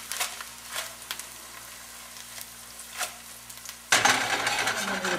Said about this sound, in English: Cross these around with these brown a little bit, then we'll add the risotto.